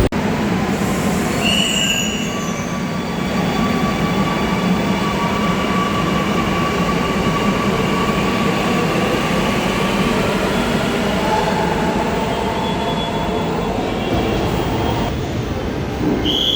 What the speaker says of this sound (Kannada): ನಮ್ಮ ಟ್ರೈನ್ ಬಂತು, ಟ್ರೈನಿಗೆ ಹತ್ತುವ.